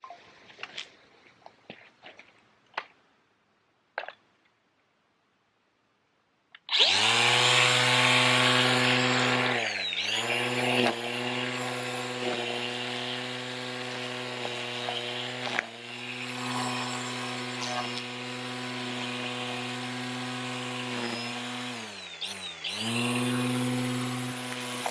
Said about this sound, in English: So step 1, weed whacking.